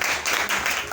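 Church congregation clapping, a brief burst of dense hand claps, loud and close.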